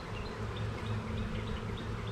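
Honey bees buzz steadily and fairly faintly all around an open beehive during a frame inspection, with a continuous drone and no speech.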